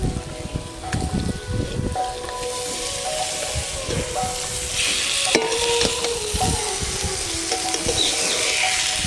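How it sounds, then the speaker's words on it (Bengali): Seedless orange pieces stirred and frying with cooked-down spice paste in a pan for a village-style snakehead (shol) fish curry, a steady close sizzle with scraping stirs throughout. "মশলা দিয়ে লেবু কষায় নিয়েছি"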